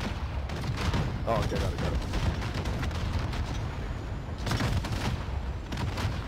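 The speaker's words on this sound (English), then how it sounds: "Oh, yo, they're shooting." Rapid bursts of gunfire and booming explosions from Call of Duty Warzone during a live event, dense and continuous with some loud blasts, while a player talks over the game audio.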